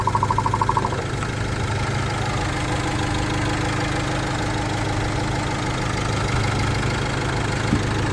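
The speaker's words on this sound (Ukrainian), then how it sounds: "чиста робота двигуна" A 2019 Renault Master diesel van engine idles steadily up close, a low rumbling drone with an even, slightly knocking rhythm and a short beeping at the start.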